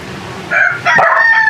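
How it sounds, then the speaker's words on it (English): A homestead chicken in rural Portugal crows and clucks close by, a short rising call followed by a longer sustained crow against faint outdoor background. "Bud, this chicken isn't for you."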